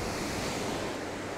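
Sea waves wash steadily onto the shore in a continuous broad roar, with wind blowing across the microphone and no one speaking.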